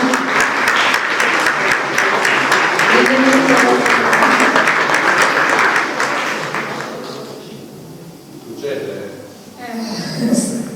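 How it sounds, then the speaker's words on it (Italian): A crowd at an awards event claps loudly and steadily for several seconds before the applause fades out, with a few voices speaking near the end. "Un applauso."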